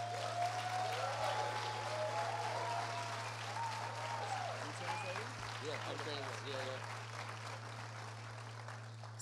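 Church congregation at a Sunday service applauding a guest speaker, a continuous wash of clapping with cheering and voices mixed in over a low hum.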